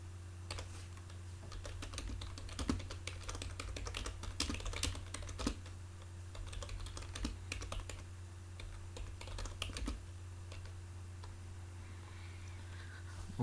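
Rapid, continuous typing on a computer keyboard as a question is entered, dense clicky keystrokes running for about ten seconds and then thinning out, close and fairly quiet over a steady low hum.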